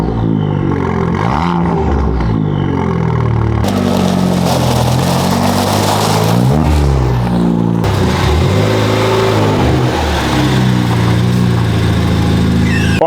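A Ford Fiesta ST engine revs and drives slowly into a garage, loud and close, with a steady low drone broken by repeated rising and falling throttle blips throughout.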